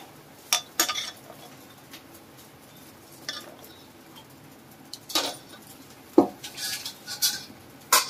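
Masoor lentils go into a pot of mutton yakhni pulav with a few scattered clinks and knocks of utensils against metal, sharp and close, separated by quiet pauses.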